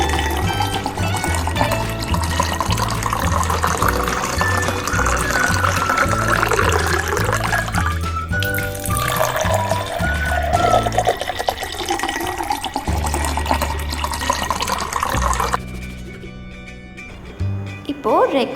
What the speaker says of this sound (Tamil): இப்போது பீட்ரூட் ஜூஸ் ஆட் பண்ணிக்கலாம்.